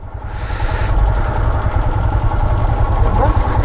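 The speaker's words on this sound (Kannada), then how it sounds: "ಇಂಜಿನ್" A vehicle engine idles on a roadside in Kodaikanal as it warms up, a steady close mechanical rumble with light clatter running unbroken throughout, while a voice talks over it.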